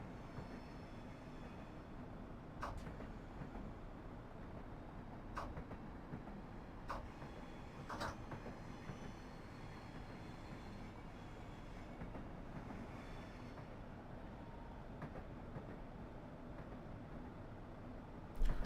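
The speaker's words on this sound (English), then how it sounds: "As you can hear, the sounds of the Class 172 are the same as the sounds that come from the existing Class 170 Turbostar" A Class 172 Turbostar diesel multiple unit running in Train Simulator between Barking and Gospel Oak, a steady low engine rumble and rolling hum at moderate level with occasional brief clicks, no talk.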